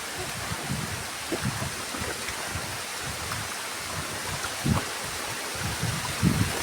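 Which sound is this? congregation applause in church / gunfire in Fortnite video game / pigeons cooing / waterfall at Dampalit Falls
waterfall at Dampalit Falls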